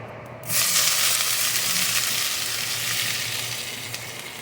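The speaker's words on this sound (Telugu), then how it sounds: "నూనె వేడైంది ఆవాలు వేసుకుందాము కాస్త జీలకర్ర ఉల్లిగడ్డ వేసుకుందాము" Mustard seeds, cumin and onion hit hot oil with a sudden loud sizzle that stays as a steady close hiss and crackle, no talking.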